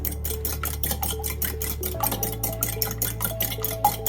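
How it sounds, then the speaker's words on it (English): An egg being whisked in a bowl: quick, regular clinks and scrapes of the whisk against the bowl repeat steadily throughout, close and moderately loud over a low background hum. "Now we're going to just whisk the egg before we add it"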